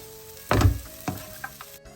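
Semolina for rava upma roasting in a pan and being stirred: a loud scraping sizzle at about half a second, then two shorter stirring strokes over a faint background hiss.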